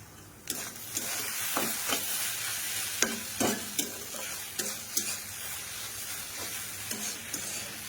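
Maggi noodles sizzle and fry in a pan, a steady close crackle broken by repeated scraping stirs every second or so, with no voices.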